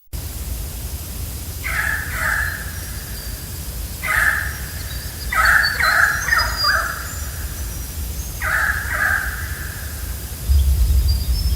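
Harsh, raspy alarm calls from currawongs at dusk come in short repeated bursts at a moderate distance over a steady hiss of background noise, with pauses between the calls.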